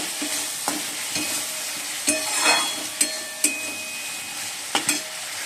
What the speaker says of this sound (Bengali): আর এদিকে মশলাটা কষে নিচ্ছি, পোস্ত দিয়েছি